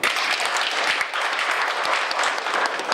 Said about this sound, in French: je demande aux gens de les applaudir